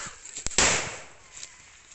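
Firecracker bombs set off against an old mobile phone burst with one sharp, loud bang that decays quickly outdoors, preceded by a smaller click-like pop.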